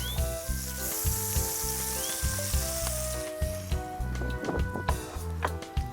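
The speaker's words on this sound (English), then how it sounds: "Drop a little bit of butter in there just to get it melted." Butter melts in a warming cast iron skillet with a steady, close sizzling hiss. Rhythmic tonal background sounds run underneath throughout.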